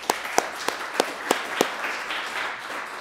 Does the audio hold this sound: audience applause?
yes